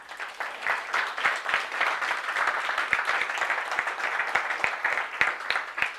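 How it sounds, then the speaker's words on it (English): Audience applause at a leadership keynote, steady dense clapping from a sizable crowd lasting about six seconds without a break. "Give them a round of applause again."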